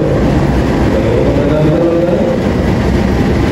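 Train rolling into a track at Bandung station in Indonesia, loud, continuous low rumble and rail noise throughout with no clear voices.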